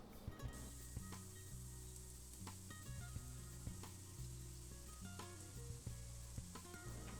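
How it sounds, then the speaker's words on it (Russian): Mushrooms frying in a pan over medium heat alongside carrots for stuffed peppers, a steady close sizzle with occasional stirring clicks and spatters throughout, no talking. "И выложите грибы на сковородку."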